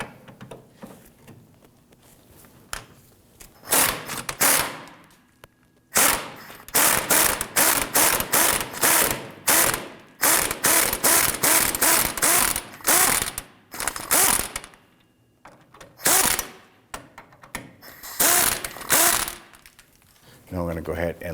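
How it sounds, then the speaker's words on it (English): A ratchet with a 15mm socket works a suspension bolt loose on a 2008-2011 Ford Focus trailing arm, loud rapid clicking bursts in repeated strokes with short pauses, and talk in between. "We're using our 15mm socket."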